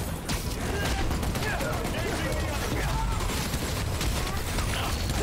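A turret firing in the video game Marvel's Spider-Man: Miles Morales, a steady, fairly quiet rattle of rapid shots under game noise and voices.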